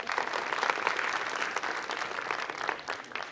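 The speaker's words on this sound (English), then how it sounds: "Round of applause." A seated audience breaks into a steady round of applause at a breathing science talk, dense clapping sustained at even loudness for the whole stretch.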